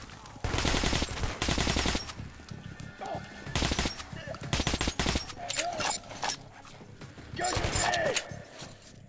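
A gun in the Metro: Last Light video game fires repeated loud bursts, each lasting about a second or less and separated by short pauses. It sounds close, with mechanical clicks and voices in between.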